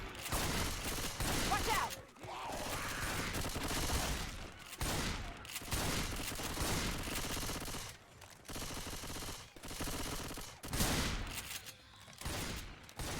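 Sustained machine gun fire from the Left 4 Dead video game pours out in long, dense bursts broken by brief gaps, loud and close, with a player's voice briefly calling out.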